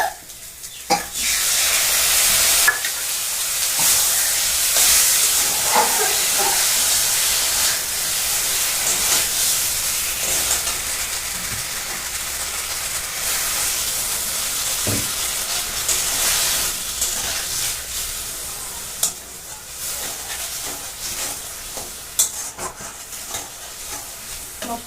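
Water hits spicy masala in a hot pan, setting off a loud, sustained sizzle and steamy hiss that slowly settles, with occasional stirring clatter.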